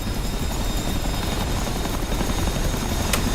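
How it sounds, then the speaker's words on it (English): A Chinook twin-rotor helicopter drones steadily nearby, a loud continuous rotor and engine roar with no break and no voices. "Me and the Chinook will do just fine."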